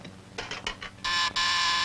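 Short electronic door buzzer buzzes sound in a few quick bursts, followed by two longer sustained buzzing tones, close and fairly loud.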